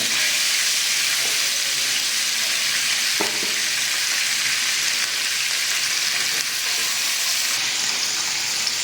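Hilsa fish fries in a pan with a dense, steady hiss of oil that barely changes over time and has only a faint tap or two, close-up and without speech.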